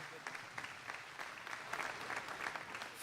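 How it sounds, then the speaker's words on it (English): Audience clapping at the Ohio State Fair Sale of Champions livestock auction, a steady moderate round of applause from a large indoor crowd, fairly even throughout with a faint voice underneath. "Let's give that a big round of applause"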